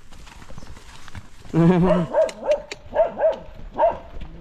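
A horse on a farm, being moved to another field, heard amid several loud, rhythmic, voice-like bursts, with faint background noise between them.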